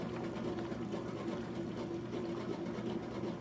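A washing machine draining water after a rinse cycle, with a steady low pump hum and a continuous watery rush, fairly quiet and unbroken.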